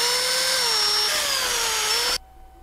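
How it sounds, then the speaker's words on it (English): Power drill boring evenly spaced holes around a clock face for stainless steel screws, a loud whining motor with pitch dipping under load, cutting off abruptly near the end. "drill some holes so they're evenly spaced"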